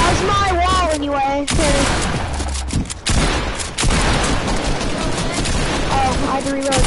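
Rapid gunfire in Fortnite, loud bursts of automatic shots with booming impacts, close and dense, mixed with a person talking over the action.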